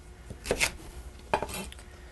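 A knife cuts through parsnips on a cutting board in a home kitchen, giving two or three close, sharp chops and clatters with short pauses between them.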